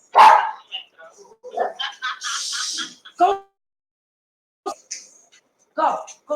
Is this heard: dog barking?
yes